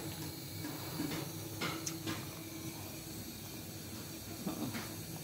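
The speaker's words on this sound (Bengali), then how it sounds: "দুধটা আমার বলক উঠে গেছে" Milk coming to a boil in a large cooking pot for semai, a steady soft hiss and bubbling simmer with faint clicks, close and continuous with no talking.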